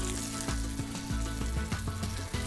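Potatoes fry with spices in a pan, a quiet steady sizzle with soft crackles and occasional clinks or thuds of stirring close by.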